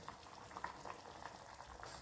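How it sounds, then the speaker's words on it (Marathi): Prawn curry (kadhi-style rassa) simmering in a pot on low gas, a soft steady bubbling and faint sizzle, quiet and close, with no talking. "लो गॅसवरती मी ही कढी ठेवणार आहे एकदा उकळी आली की गॅस मी कमी केलेला आहे"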